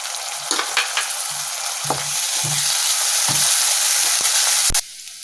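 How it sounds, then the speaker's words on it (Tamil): Ginger garlic paste with onion, curry leaves and whole spices sizzles loudly in a hot oily pan, with intermittent scrapes and knocks of a stirring spoon throughout. "இஞ்சி பூண்டு விழுது நல்லா வதங்கிடுச்சு"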